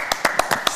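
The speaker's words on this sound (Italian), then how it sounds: "come sempre un applauso anche ad Alex" About five sharp, evenly spaced claps ring out in quick succession at a live show, close and distinct rather than a full crowd ovation.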